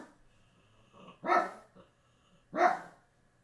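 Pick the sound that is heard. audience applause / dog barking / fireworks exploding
dog barking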